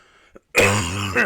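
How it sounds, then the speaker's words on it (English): A single harsh cough, close and loud, preceded by a faint breath and followed by a short rasp. "this cough is not going away"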